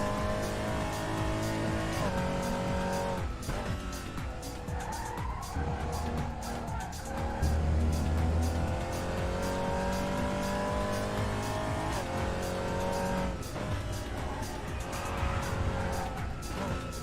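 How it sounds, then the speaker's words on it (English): Tyre squeal from a car pushed to the grip limit in the Assetto Corsa racing game, a steady engine drone with skidding tones that cut in and fade repeatedly, continuous and fairly loud throughout. "the tyre skid sound in this? The way it cuts in when you're really at the limit"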